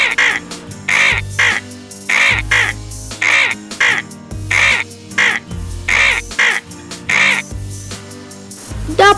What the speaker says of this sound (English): I'm an vulture.